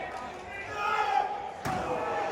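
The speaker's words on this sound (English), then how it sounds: "Slams his head into that metal table." During a wrestling match, a wrestler's head slams into a metal table with a sharp single impact amid crowd noise in an indoor arena, following a rising roar of the audience.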